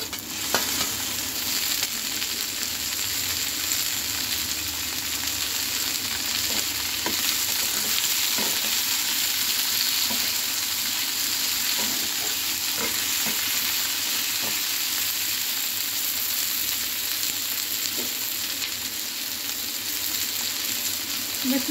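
Ginger and tomatoes fry in a pan with a steady, even sizzle throughout, broken by faint occasional clicks of stirring, with no talking.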